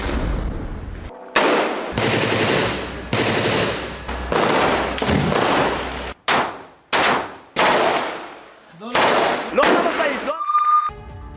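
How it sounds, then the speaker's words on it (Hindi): Loud, close bursts of automatic gunfire come in rapid, repeated volleys separated by short gaps, from a gunfight between Hamas fighters and Israeli soldiers in the Gaza war. "हमास लड़ाकों और आईडीएफ के जवानों के बीच गन फाइट भी जारी है"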